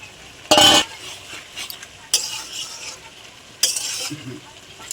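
Fish heads and cabbage stirred in a pot of spiced curry, three loud scraping bursts of the spoon over a continuous low sizzle, close up and without speech.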